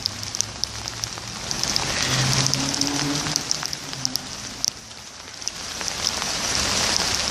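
Steady rain falls on a surface at night in a continuous, even patter, with scattered louder drops standing out against the hiss throughout.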